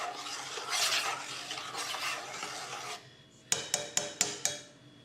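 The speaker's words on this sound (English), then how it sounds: "Stir that through." A spoon stirs vanilla into custard in a pot, with a few seconds of scraping, rubbing strokes followed by several sharp taps of the spoon against the rim, close and clear with no talk.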